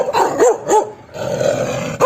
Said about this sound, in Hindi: कुत्तों ने भौंकते हुए उसे घेर लिया